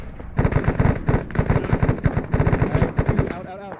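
Loud, close gunfire in the military shooter Arma 3, rapid automatic bursts hammering out in an uneven rhythm for several seconds before easing off at the end.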